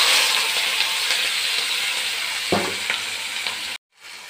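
Spices with onion, tomato, ginger, garlic and green chilli frying in a pan with soya chunks, a steady close-up sizzle with stirring scrapes, cutting off abruptly near the end.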